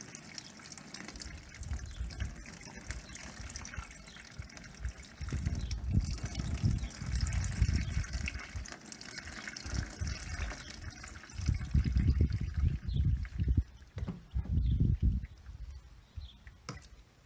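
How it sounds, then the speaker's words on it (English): Plain tap water is poured through ice-dyed cellulose fiber, giving soft, fairly faint splashing and gushing in two main pours with quieter trickling between them. "So, we're just going to pour water through here."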